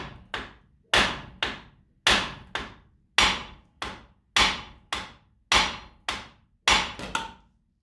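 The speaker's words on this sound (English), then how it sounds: "And just whack it gently, just the way of the hammer" A hammer strikes a metal steering knuckle about a dozen times in a steady rhythm, each blow sharp and ringing briefly, close by, with no speech.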